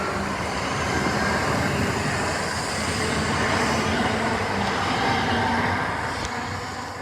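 A train runs through Bournville station, giving a dense, steady roar of wheels and motion that swells slightly and then holds, close and loud, with no talking.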